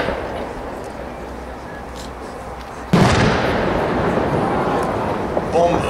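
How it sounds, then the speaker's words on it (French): A 125 mm red peony firework shell bursts at a fireworks display, one sudden loud boom followed by a long rumbling decay, outdoor crowd noise and voices around it. "Ensuite, bombe 125 pivoine rouge."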